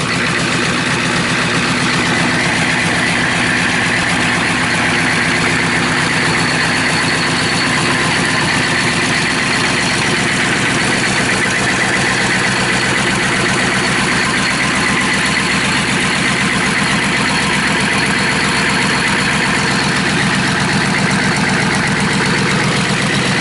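A rebuilt Chevy/GMC 6.5L turbo diesel engine, suspended on a stand, runs steadily at idle with a dense, loud, continuous clatter that stays even throughout, with no voices.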